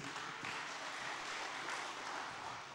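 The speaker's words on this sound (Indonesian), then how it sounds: "Tepuk tangan untuk Suci Kompas TV dong" A studio audience at a stand-up comedy show applauds in a steady, dense patter of many hands, fairly faint and even from start to finish.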